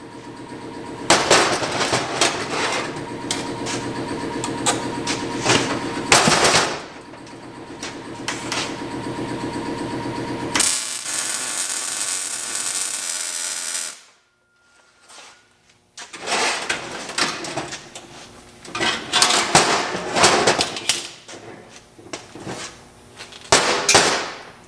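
Motor and transmission mounts on a BMW E36 are welded in loud, close bursts of crackling sputter with brief pauses between runs, plus a stretch of steady hissing.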